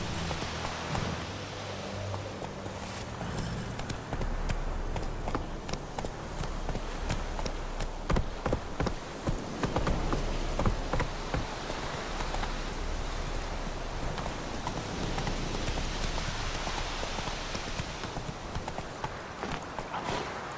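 Horse hooves galloping in The Witcher 3, a fast continuous clip-clop rhythm close up over a dense background rumble, steady for about twenty seconds.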